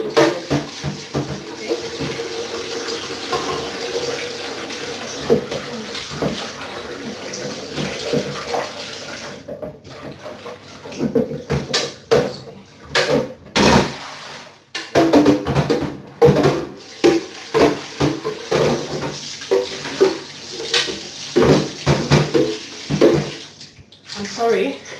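Tap water runs and splashes in a kitchen during cooking and dish washing, a loud, continuous gush broken by clatter and pauses, with a person talking now and then.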